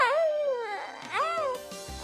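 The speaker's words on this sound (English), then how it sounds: "cooing," Recorded real-infant cooing played from an electronic care baby doll, with soft, rising and falling tonal coos in two short phrases, close and clear.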